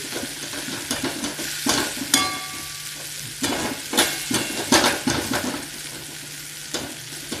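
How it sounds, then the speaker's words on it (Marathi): Grated sweet potato is sautéed in ghee in a pan, steady sizzling broken by repeated scraping and stirring strokes of a spatula, close up with a few metallic clinks and no speech. "हे आता असं छान थोडंसं तुपावरती आपण परतून घेतलेलं आहे रताळ्याचा खीस."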